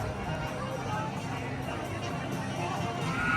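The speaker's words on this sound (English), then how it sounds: "Very, very busy crowds out here." Very busy crowds at Disneyland, a steady wash of crowd babble and chatter with footsteps and movement, continuous and fairly even all the way through.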